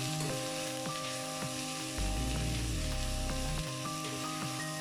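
Onions fry with dry king fish (karuvadu) in a pan, making a moderate sizzle beneath steady tonal hum lines, with a deeper rumbling surge for about a second midway.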